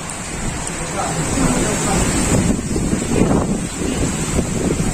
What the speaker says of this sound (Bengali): বৃষ্টি পড়ছে দেখো স্লাইডিং দিয়ে জল বেয়ে বেয়ে পড়ছে কত বৃষ্টি পড়ছে